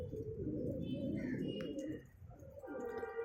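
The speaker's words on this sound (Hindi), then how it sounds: "ये कबूतर, ये देखो टेढ़ा कबूतर है।" Low, throaty pigeon cooing rolls on nearby in soft repeated phrases, with a few faint chirps from other birds in the background.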